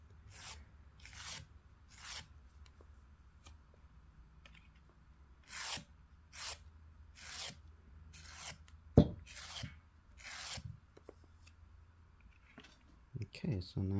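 A metal rib scrapes and blends the seam of a clay pottery bowl in a series of short rasping strokes, close and fairly quiet, with pauses between strokes.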